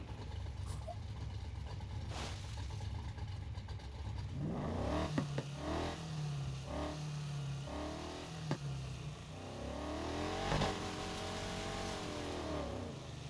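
Stock Ford Mustang engine in the racing game Need for Speed Heat, revving and accelerating through several quick gear changes with rising and falling engine tones, then a longer sweeping pull toward the end.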